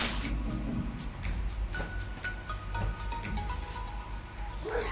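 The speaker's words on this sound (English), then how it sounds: "So yes, I just got about adding my palm oil into my pot." Palm oil poured into a cooking pot while making Nigerian waterleaf vegetable soup, edikang ikong, giving a soft steady hiss with a few light clicks, close and fairly quiet, with no talking.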